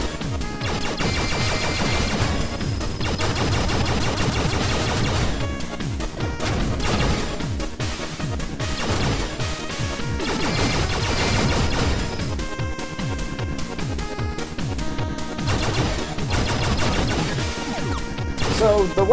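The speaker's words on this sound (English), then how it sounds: "the weapon I'm using now is the Wave Gun, and it's the most overpowered weapon in this game" The Wave Gun firing in the Blaster Master Zero video game, a dense run of crashing, blasting shots and impacts that keeps up with little pause, loud and busy under game music.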